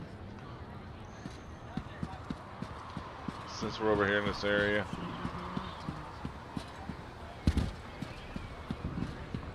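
Steady clip-clop of horse hooves in the video game The Elder Scrolls Online, in a quick even rhythm, with someone talking briefly over them and a short sharp thud near the end.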